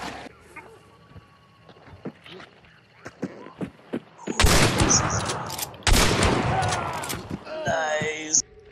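Gunfire erupts in the video game Hunt, with sharp shots giving way to loud, sustained bursts of firing in the second half, while players talk over voice chat.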